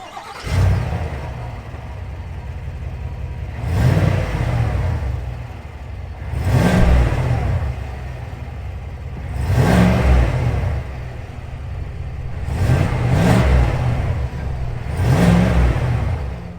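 The 6.2-liter V8 of a 2022 Chevrolet Silverado ZR2 pickup revs hard in five separate bursts, each roar rising and falling back to a rumbling idle between them, loud and close.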